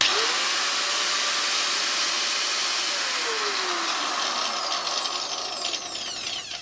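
A Ferrex corded angle grinder running at full speed in a workshop, a loud, steady high-pitched motor whine close by that holds constant throughout, with shifting tonal sweeps near the end and no speech.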